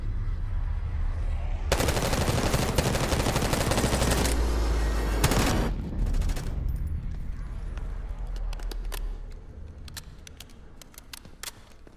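Rapid automatic gunfire from the video game Call of Duty: Black Ops 6 bursts loudly, then gives way to scattered single shots and clicks, with muffled action sounds continuing.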